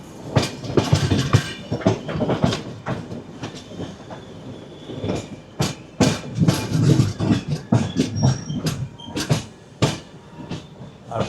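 Vivek Express passenger train running toward Vijayawada station, loud steady rumble with rhythmic clickety-clack of wheels over rail joints and occasional clanks and brief squeals, heard from inside the carriage with no talk.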